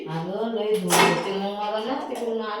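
Metal pots and dishes clatter and clink as they are handled on a kitchen shelf, a close, busy jangle with a louder knock midway, mixed with a voice.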